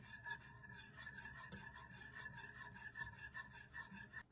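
A whisk working through heavy whipping cream warming in a small pan, a quiet steady rhythmic scraping and swishing, close up with no talk.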